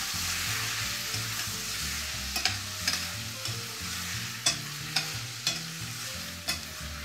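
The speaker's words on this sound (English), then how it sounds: "So we can go ahead and we can just stir all these tomatoes in." Chopped tomatoes are stirred into toasted spices in a hot pan, giving a continuous close sizzle with soft scraping stirs and several sharp utensil clicks against the pan.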